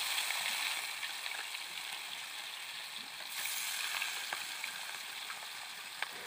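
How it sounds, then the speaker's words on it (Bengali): Fish pieces sizzle and fry steadily in hot white oil in a wok, a dense continuous crackle close by with occasional sharper pops and a brief surge midway, no talking. "এবার আমি মাছটাকে ভেজে নেব।"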